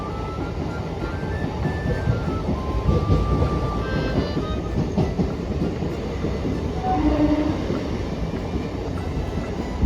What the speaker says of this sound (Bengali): আমি এখন উঠে পড়েছি বনগাঁ শিয়ালদা লোকালে